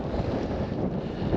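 Strong wind buffets the microphone on a gravel bike ride in remote Perthshire countryside, a loud and steady rumbling roar with no voices.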